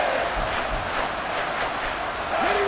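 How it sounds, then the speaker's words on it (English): A loud football stadium crowd, a dense, continuous roar of cheering with chanting surges, heard briefly under a commentator's voice. "Well, this crowd making it hard to hear."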